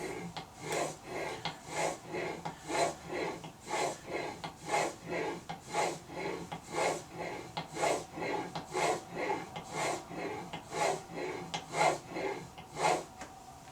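A chisel is sharpened by hand on sandpaper, working up through the grits toward a mirror polish. Steady back-and-forth rasping strokes repeat in an even rhythm, close and moderately loud, with no talking.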